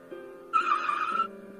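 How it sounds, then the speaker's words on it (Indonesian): A car pulls up and stops in a yard, with a brief tire screech rising over its low engine hum before the engine settles back to a quiet idle. "Mobil Harlan sudah berhenti di pelataran rumah."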